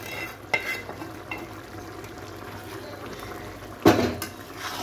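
Fried egg is stirred into cooked okra in a pan with the gas turned off: soft scraping and a few sharp clicks of a spoon against the metal, quiet and close, with a faint residual sizzle.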